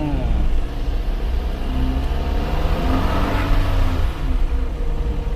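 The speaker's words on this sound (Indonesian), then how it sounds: "Seperti ini kira-kira mesinnya luar biasa sekali" Daihatsu Gran Max blind van engine running, a loud steady low rumble with a droning hum that holds throughout, heard close from inside the vehicle.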